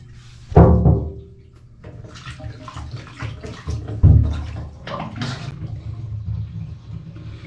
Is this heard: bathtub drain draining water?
yes